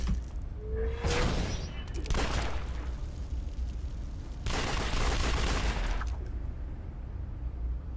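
Rapid bursts of gunfire from a pistol in a video game, fired in three or four loud, dense volleys with short gaps, over a steady game background with no talking.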